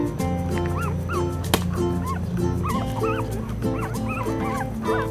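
A puppy yips and whimpers in a string of short, high, repeated barks over a steady background hum, fairly close and continuous.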